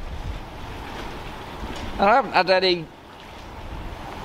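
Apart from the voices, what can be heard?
wind by the water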